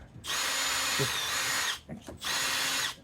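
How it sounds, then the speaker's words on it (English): A power drill bores drainage holes into a flower pot in two loud, steady bursts separated by a short pause. "Get some holes drilled in there so that we got drainage."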